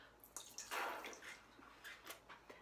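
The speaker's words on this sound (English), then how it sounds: "I'm gonna put some water into it, shake it up again, and rinse out that water." Water poured into a kitchen sink to rinse out a hollowed eggshell, heard as a few soft splashing and trickling bursts with light drips, faint and close, with no talking.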